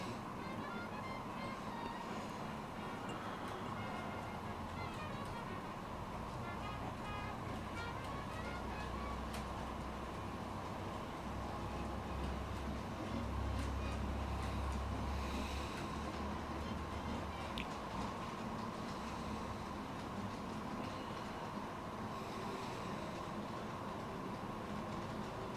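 An On30 scale model train runs continuously on its track with a steady rumbling, clattering hum that stays even throughout, with no speech over it.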